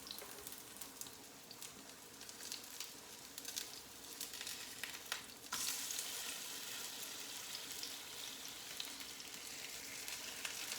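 Codfish fritters sizzle in hot oil in a pan, a steady crackling hiss that grows denser and louder partway through, with no talk.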